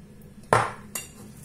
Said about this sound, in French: Je vais venir prendre avec ma petite cuillère et je vais mettre